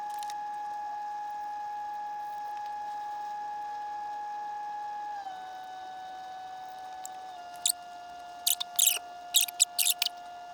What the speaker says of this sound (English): I'm going to go scrape away at all the rest of this stuff.